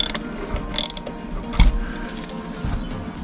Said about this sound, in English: So you're going to use a 16 millimeter on your oil plug.